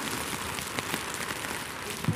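Rain patters densely and steadily on a surface outdoors at a market, a constant broadband hiss with scattered sharper drops and no voices.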